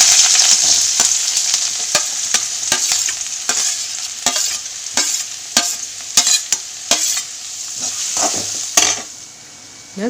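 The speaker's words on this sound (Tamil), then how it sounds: "இது பொரிஞ்சு வந்தவுடனே வெங்காயத்தை சேர்த்துக்கலாம்" Chopped large onions frying and sizzling in hot oil with cinnamon for a chicken thokku gravy, stirred with a series of sharp scraping clicks over a steady hiss, close and loud, with no talk.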